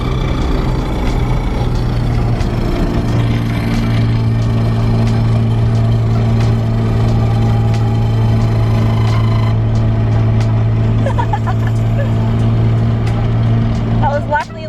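A car with a damaged gearbox missing second gear runs loudly with a steady low mechanical drone, sharp knocks and grinding scrapes breaking through, while people talk over it.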